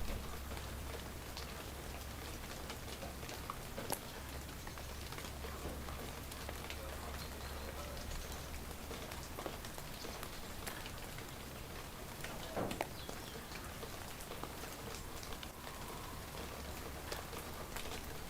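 Continuous steady rainfall, an even patter with occasional heavier drops, heard at a low level with no one speaking.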